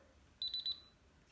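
A Bosch Solution 3000 security system goes into alarm when a reed switch on the code pad is opened, mimicking a door. Three quick, close, high-pitched electronic beeps follow one another over a quiet background.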